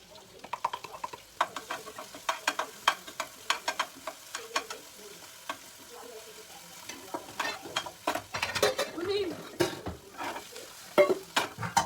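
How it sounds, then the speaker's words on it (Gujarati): Garlic, chillies, ginger and fennel frying in hot oil, a steady sizzle broken by sharp spoon taps and scrapes against the pan, close up with no talk. "હવે અંદર એડ કરીશું લસણ મરચાં અને સ્વાદ મીઠું આદુ."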